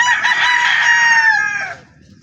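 A single rooster in a breeding pen gives one loud, close crow lasting under two seconds, bright and harmonic, trailing off into quiet background.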